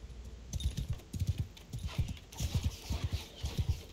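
Horse hooves clip-clop in a medieval battle in the game Mount and Blade, a steady galloping rhythm of close, punchy thuds repeating throughout, with clattering battle noise rising partway through.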